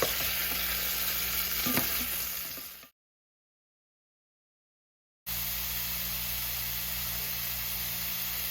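Ground beef frying and being stirred in a pan for taco burritos, a steady close sizzle with light scraping, broken by a gap of total silence before the sizzle resumes.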